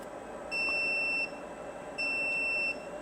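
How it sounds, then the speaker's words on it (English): Two sustained high electronic beeps, each lasting under a second, from a soldering rework station signalling it has reached its lower temperature setting, over a steady hum of background noise. "It's beeping because it hit the lower temp."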